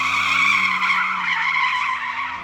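Tires on a Porsche 911 GTS squeal steadily as the car understeers through a corner, a loud, sustained screech over a low engine drone, close and uninterrupted.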